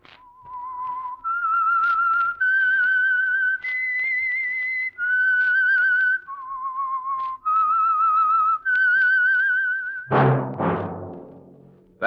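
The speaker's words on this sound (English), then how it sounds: "That whistle is your signal for the Signal Oil Program, The Whistler." A lone whistler, close and clear, plays a slow signal tune for the Signal Oil radio program, a series of sustained pitched notes, followed by a sudden loud crash at the end.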